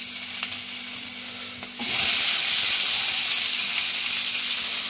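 Garlic and onion hitting hot oil for a momo filling: quiet kitchen noise, then a sudden loud, steady sizzle that holds for the remaining seconds.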